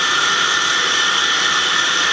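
A KSI SQC-38 CNC Swiss-type lathe spindle turning at 3,000 RPM produces a steady, close, loud high-pitched whir with no variation over the short span.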